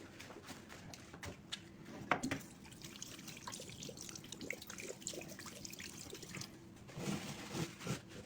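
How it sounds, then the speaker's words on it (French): Hands are washed under a running tap at a kitchen counter where andouillettes are being made; a soft, steady trickle of water runs with faint splashes and a few louder spatters, fairly quiet and close. "Je vais me laver les mains."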